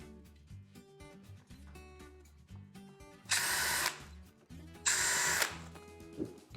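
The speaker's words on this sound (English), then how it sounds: "Now I can take my pre-drill, run my holes real quick." A drill pre-drills holes for hinges on a lazy Susan corner cabinet door, two loud whirring bursts of about half a second each, close by, amid quieter handling clicks and taps.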